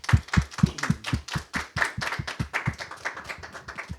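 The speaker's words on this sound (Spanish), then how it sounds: "Vamos a agradecer a José Pablo con un fuerte aplauso." Clapping from a Christian gathering thanking a speaker, several loud, distinct claps up front at first, then settling into a denser, quicker patter of applause.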